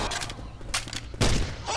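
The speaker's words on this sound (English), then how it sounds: "this grenade launcher is ridiculously fun" A grenade launcher fires in a video game, loud broadband blasts repeating at irregular intervals, the heaviest thump landing late, over a constant rumble of game noise.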